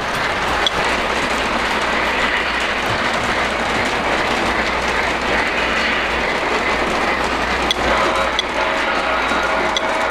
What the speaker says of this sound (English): The tunnel muffles the whistle a little bit on that freight train